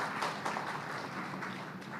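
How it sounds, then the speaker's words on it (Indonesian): Audience at an outdoor groundbreaking ceremony for a transit hub at Lebak Bulus, Jakarta, clapping: a faint, distant, continuous patter of many hands with no voices over it. "boleh berikan tepuk tangan sejenak Bapak Ibu sekalian"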